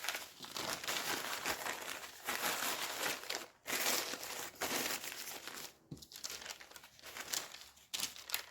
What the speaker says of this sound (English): This is the same paper that it was baking on.